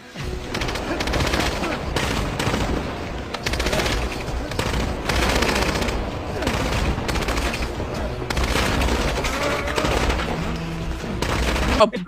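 Rapid bursts of automatic gunfire crackle from a scene in the animated Resident Evil: Infinite Darkness, dense repeated volleys sustained for about twelve seconds with no talk over them.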